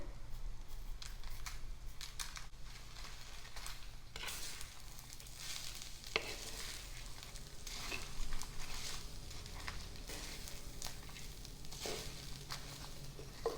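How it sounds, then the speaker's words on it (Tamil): Brinjal gravy ingredients dry roasting in a pan, a faint continuous crackle and sizzle with occasional scraping and stirring clicks, quiet and close. "இதை நல்லா ட்ரை ரோஸ்ட் பண்ணிக்கலாம்."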